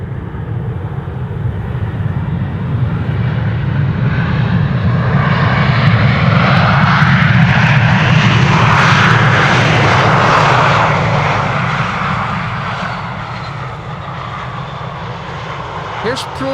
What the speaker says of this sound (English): Anything that uses the reversers will get loud, including A320s, 737s